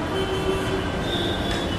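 A Mumbai local train passes close to a railway station, giving a steady rumbling roar with thin squealing tones from the wheels and no voices.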